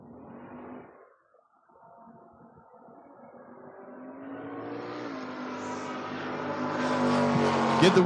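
Drag race cars, one a Mustang, launching at a door-car drag meet: a brief lull, then engines build into a loud, rising roar that swells toward the end, with a faint voice beneath.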